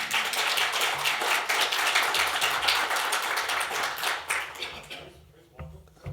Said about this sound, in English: I can feel you all wanting to applaud,